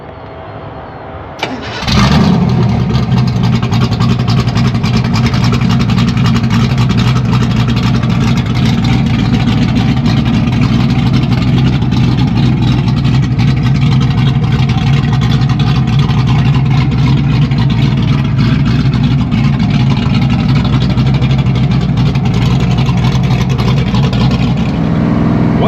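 A Ford Mustang Fox Body engine cranks and fires up, then settles into a loud, steady rumbling idle and drone that carries on continuously, close by.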